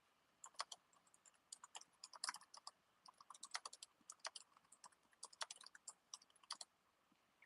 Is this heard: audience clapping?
no